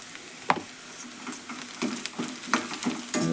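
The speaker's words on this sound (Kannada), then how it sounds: "ನೋಡ್ರಿ ಇದು ಉಳ್ಳಾಗಡ್ಡೆ ಕರ್ದೈತಿ ಈಗ ಸ್ವಲ್ಪ ಅರಶಿನ ಪುಡಿ ಹಾಕೋತೇನೆ" Onions frying in a pan with turmeric powder, heard as soft sizzling with repeated scraping stirs of a utensil against the pan, close and fairly quiet, with no talk.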